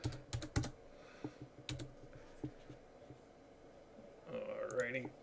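Password typed on a computer keyboard while installing Emby Media Server on Manjaro Linux: a few quick clusters of key clicks near the start and middle, fairly close and crisp, with some faint background noise between.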